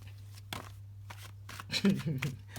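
Soft riffling and flicking of tarot cards being shuffled, a few brushing bursts growing busier toward the end, over a steady low hum.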